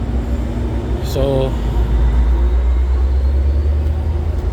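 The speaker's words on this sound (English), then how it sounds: "as you hear those trains powering up, they're going to be leaving" Trains powering up at Montreal West station give a steady, low diesel-like rumble that fills the whole stretch, with a short spoken word near the start.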